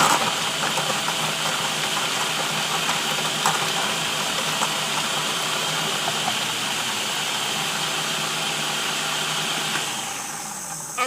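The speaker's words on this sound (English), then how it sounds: "That's how you mince garlic in a food processor and keep it from being mushy." A food processor runs on high while mincing garlic, giving a steady, loud whirring motor drone that holds evenly for about ten seconds before easing off slightly at the end.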